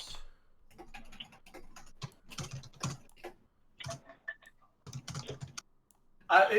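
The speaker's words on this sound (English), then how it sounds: "Izzy, I'm typing up a long monologue in the private chat for Muriel explaining things to Coco without" Close keystrokes on a computer keyboard come in short bursts of rapid clicking with brief pauses between, during an online role-playing game session.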